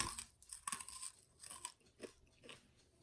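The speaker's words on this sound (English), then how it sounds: "let us listen to the crunch" Close, quiet crunching as someone bites and chews crispy sweet potato chin chin, a fried dough snack, with several distinct crisp crunches spaced irregularly and no talking.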